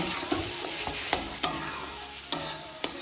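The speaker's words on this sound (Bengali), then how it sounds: "এবার সব উপকরণগুলো ভালোভাবে মিশিয়ে নেব।" Shrimp, green beans and ground spices with pepper, salt and a pinch of sugar are tossed and stirred in a sizzling pan, with steady frying hiss and a few sharp spatula scrapes and knocks.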